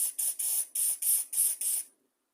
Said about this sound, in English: we're just going to take a carb cleaner and spray it through.